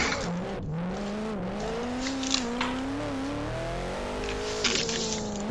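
A four-door Nissan Skyline R32 drives steadily with a close engine drone whose pitch wavers and climbs as it downshifts into fourth for a tight section, with light tire and road noise.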